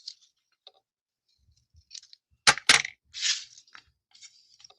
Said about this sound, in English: scissor please, thank you very much, you can cut it in the corner